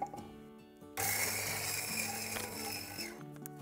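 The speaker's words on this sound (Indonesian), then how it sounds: "Grindernya aku bersihin dulu pakai kopi yang mau aku giling." A home coffee grinder runs through coffee beans, starting with a loud, close whirring grind that stays steady for a few seconds, with no talking over it.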